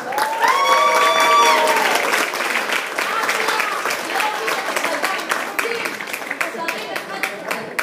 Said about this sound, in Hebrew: רק עם מחיאות כפיים